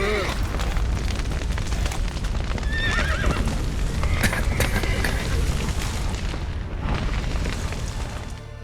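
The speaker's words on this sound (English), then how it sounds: "The horses!" Horses in The Witcher 3: Wild Hunt whinny and neigh loudly over clopping hooves, with deep booming rumbles and a busy, continuous battle-like din beneath.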